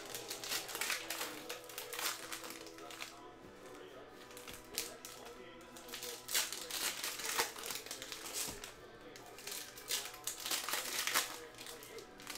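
Thick plastic retail packaging for a box of Topps Chrome trading cards is crinkled and torn open in repeated crackling, rustling bursts throughout, close and fairly soft.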